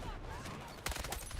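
Rapid bursts of video game gunfire crackle over dense background noise, with a louder cluster of sharp shots near the end; a voice is faintly present.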